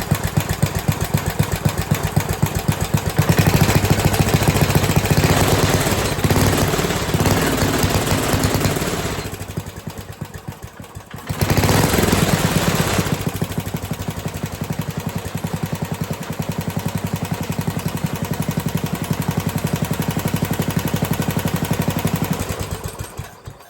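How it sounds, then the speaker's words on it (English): A 1975 Briggs & Stratton small engine runs close by with a loud, rapid, steady chugging beat, dipping briefly in speed partway through before picking back up and running on evenly. "that's a good running engine right there"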